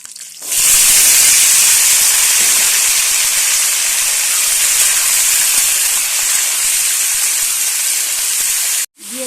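Potatoes hitting hot oil with bay leaves, green chilies and whole spices for a Bengali white potato curry, giving a loud, steady, hissing sizzle that runs unbroken for several seconds before cutting off abruptly near the end.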